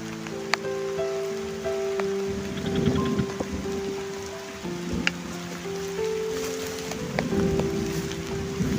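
Rain falls steadily during a fishing outing in a grassy waterside spot, a constant hiss of drops with light patter close by, while a few tonal musical notes play over it.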